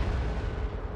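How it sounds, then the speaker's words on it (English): A single heavy cannon blast on a Total War Warhammer battlefield, a loud, deep, close boom filling the whole moment without speech. "Cannon!"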